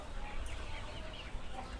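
KUB chickens clucking softly in a coop on a farm, quiet and somewhat distant over a steady low background hum, with no talk.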